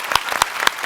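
A few distinct, sharp claps ring out in a studio audience on a Malayalam comedy show, roughly three or four spaced hits, close and fairly loud, over a light background murmur.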